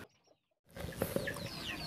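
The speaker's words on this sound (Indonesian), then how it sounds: "di sini juga ada beberapa anak ayam teman yang saya rawat dari anakan" Young chicks and a hen cluck and peep at close range after a brief near-silent pause, a few sharp short calls over a busy farmyard background.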